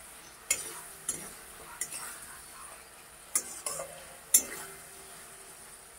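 Fish curry being stirred in a frying pan, the fried fish turned through the spice paste: soft scraping strokes and sharp clacks of a utensil against the pan over a faint background sizzle, close by.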